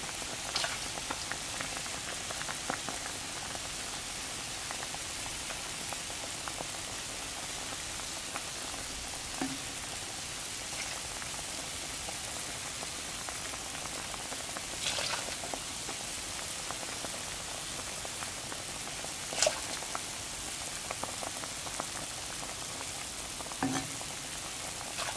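Soup for ginisang patola with misua bubbling and simmering in a pot, a soft, constant crackling with small pops now and then, steady throughout, no voices.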